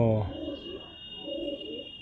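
Madras pigeons coo softly nearby, two low rolling calls in a quiet room, with a faint steady electrical hum underneath.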